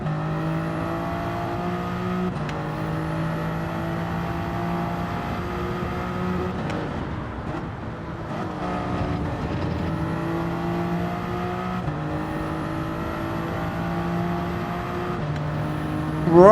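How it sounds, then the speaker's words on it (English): Race cars in Gran Turismo 7 video game, a sustained engine whine holding steady pitch with brief dips around gear shifts, loud and continuous with no talk. "cars coming up behind me"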